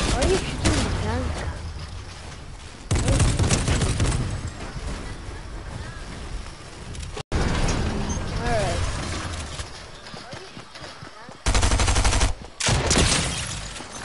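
Gunfire aimed at a tank in a video game: dense bursts of rapid shots come in two loud stretches, separated by quieter gameplay noise, with voices talking throughout.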